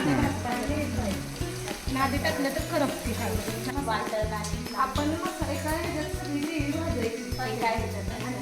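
Onion and tomato frying in oil for chicken curry over a wood-fired stove outdoors in Kolhapur, a steady close sizzle running throughout alongside background music and occasional voices.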